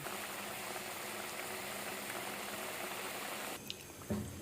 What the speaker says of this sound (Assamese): মূলা আৰু আলু তৰকাৰীটো খুব সুন্দৰকৈ উতলি আছে